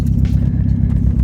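A Nissan Pulsar GTIR with a newly built engine on its first drive, giving a loud steady low engine drone with a brief faint whine on top.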